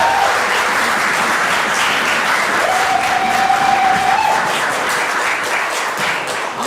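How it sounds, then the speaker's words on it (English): Sustained audience applause at a conference session, a dense steady wash of clapping lasting throughout, with a faint whistle-like tone in the middle and no talking. "Big round of applause for Andy Colombo."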